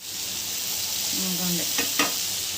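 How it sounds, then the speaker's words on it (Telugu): Chickpea tempering sizzles in a pan for prasadam while a spoon stirs it, giving steady close frying hiss with a few scraping clinks near the end. "ఇంకా అదే ప్రిపేర్ చేస్తున్నాను శనగల పోపు"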